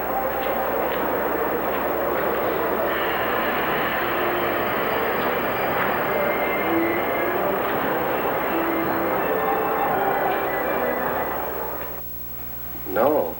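A train rumbles in, a sustained loud roar that fills the scene for several seconds, then fades, followed by a brief hiss and clank.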